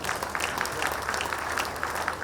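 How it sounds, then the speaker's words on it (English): A dinner crowd at a political party event claps for itself, a brief, dense, steady burst of many hands heard up close. "Clap for yourselves."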